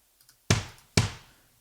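Two sharp kick drum hits from an overhead mic, about half a second apart, each with a bright attack and a short decaying tail, heard from a slight distance. A few faint clicks come first.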